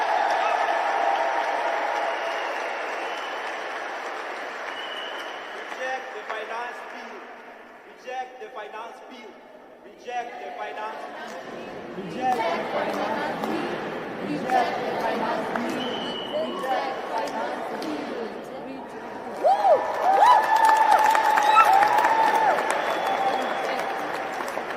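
Applause from a church congregation during a Sunday sermon, a broad wash of clapping that swells and fades across the span, mixed with crowd murmur and voices talking over it.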